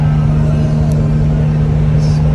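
A vehicle cruises down a highway at 70 mph, giving a loud, steady engine and road drone with a constant low hum and no breaks.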